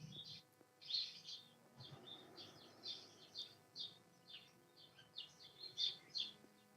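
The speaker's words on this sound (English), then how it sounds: "I love the sound of a bird chirp, but you've got so many of them." Small birds chirp and tweet in quick repeated bursts throughout, bright and fairly close, with faint voices murmuring low underneath.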